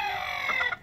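Backyard smallholding chickens give a short, close burst of clucking and squawky calls, lasting under a second with no one talking.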